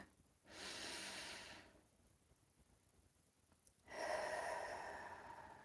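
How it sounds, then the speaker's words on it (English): Slow meditative breathing, a long airy inhale through the nose, a pause, then a louder drawn-out exhale through the mouth, close and quiet. "You take a breath in through the nose, and then you're going to take a cleansing breath out of the mouth."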